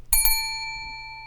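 A bell sound effect gives two quick rings with a clear ringing tone that fades out over about a second.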